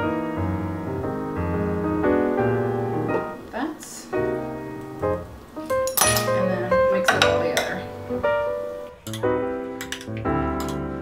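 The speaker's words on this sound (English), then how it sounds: "I'm gonna go ahead and toss both the strawberries and peaches together" Fruit clinks and scrapes against a bowl as strawberries and peaches are tossed together with vanilla extract, a string of close, irregular clinks and taps set against a steady tonal music bed.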